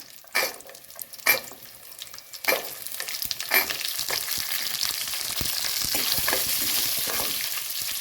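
Small shallots hit hot oil in a pan for perandai thuvaiyal, with several sharp stirring clatters early on, then a rising, continuous close sizzle that builds and holds to the end, with no voices.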